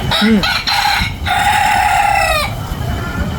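A hoarse, cracked rooster crows once in a long drawn-out call on a desi chicken farm, loud and close, with a few short clucks from the flock at the start.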